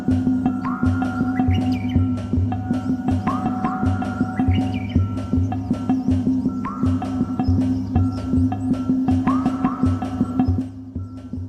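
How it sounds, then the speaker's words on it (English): Japanese bush warbler calling in repeated bursts of clear whistled notes with rising flourishes, over a steady hum and low background sound, moderately loud and fairly close throughout. "you can hear Japanese bush warbler"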